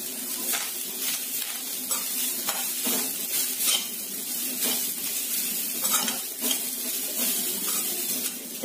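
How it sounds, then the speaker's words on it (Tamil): Coconut roasts in hot oil in a pan, a continuous close sizzle broken by repeated scraping strokes of a spoon against the metal. "தேங்காய் வறுத்துக்கலாம்."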